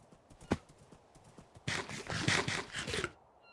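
Video-game horse hooves clip-clop in a quick run of hits, a single sharp knock first, then a denser burst of galloping steps that stops abruptly.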